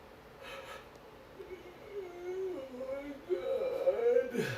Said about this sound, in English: That was the weirdest yawn I've ever heard in my life.